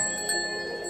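A bright notification bell sound effect rings with sustained metallic tones throughout, clear and close, with no talking.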